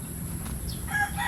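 A native-looking hybrid chicken gives a brief cluck over a steady background hum in a short, fairly even stretch without speech.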